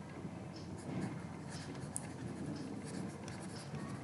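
Pen or marker writing during a maths lesson on sets, with soft continuous scratchy strokes and light taps, faint and close, with no talk over it.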